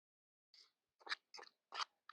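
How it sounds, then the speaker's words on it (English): Someone bites into a crunchy tater tot outdoors on a cold day, giving four or five short, close crisp crunches with brief silent gaps between them. "I just had a bite of a crunchy little piece of tater tot"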